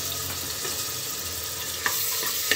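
Ginger paste frying in oil for a mutton curry, a steady soft sizzle with a couple of brief spoon scrapes near the end, close and continuous without talk.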